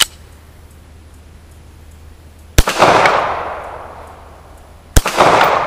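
A Stallard Arms JS 9mm pistol firing steel-cased rounds, two loud sharp gunshots a couple of seconds apart, each followed by a long ringing echo tail.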